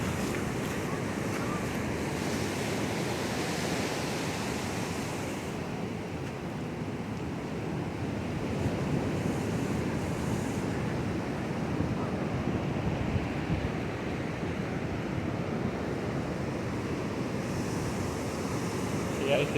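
Pacific Ocean surf washes onto a narrow, eroding beach in a continuous, broad roar, with wind buffeting the microphone throughout. The rumble is steady and loud, with no clear breaks between waves.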